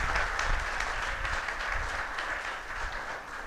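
A group of yoga day participants applauds together in a steady, moderately loud patter of clapping that continues throughout without pause.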